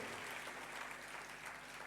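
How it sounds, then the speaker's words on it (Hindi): Applause from a church congregation during a Christmas Mass, a steady dense patter of clapping hands filling the whole short stretch at even loudness, with no voices standing out. "एक दफा तालियां तो होनी चाहिए"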